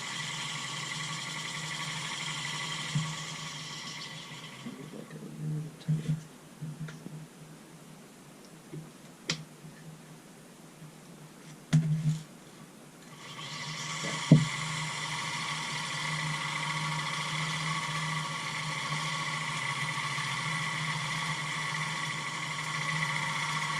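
A Fishon Spooler Pro motor winds fishing line onto a reel at a tackle bench, a steady faint whir that pauses midway with a few clicks and handling knocks, then resumes evenly.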